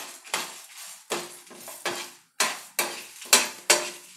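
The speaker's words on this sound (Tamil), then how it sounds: "இப்போது இதெல்லாம் நம்ம எண்ணெய் போடாமல் நம்ம வறுக்கிறோம்" Urad dal and dried red chillies dry-roast in a pan with no oil, giving about eight rhythmic scraping and rattling strokes as a spatula stirs the dry ingredients, close and crisp.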